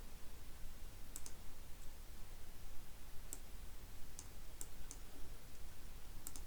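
Sparse, faint mouse clicks, a handful of sharp isolated ticks spread irregularly over a steady background hiss while a web hosting WordPress theme is browsed, with no talking.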